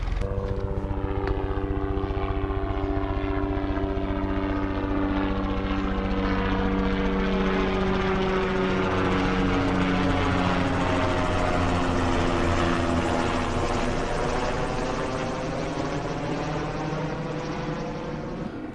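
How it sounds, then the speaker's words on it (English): A helicopter flies over the Oktwanch River Valley, its steady rotor and engine drone loud and sustained with a slowly shifting pitch as it passes. "This is the Oktwanch River Valley where that helicopter is heading."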